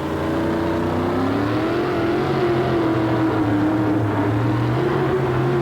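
A monster truck engine at a 1989 USHRA event in Hartford roars continuously, its pitch rising and dipping as the throttle is eased and then pressed again.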